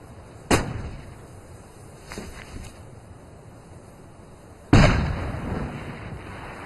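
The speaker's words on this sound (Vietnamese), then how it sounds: "Tiếng súng vẫn chưa ngưng hẳn" Vietnam War gunfire and artillery: two heavy, distant booms several seconds apart, each with a rumbling tail, and a fainter blast between them.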